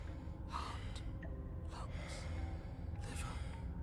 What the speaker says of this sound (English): your eyes shoot open as you gasp for breath